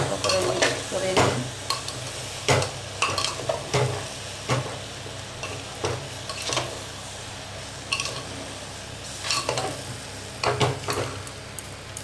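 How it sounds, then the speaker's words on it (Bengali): Dalia khichuri fries in a pan while a spoon stirs and scrapes through it in irregular bursts, over a soft, continuous sizzle close by. "ভালো করে মিক্স করে নিই।"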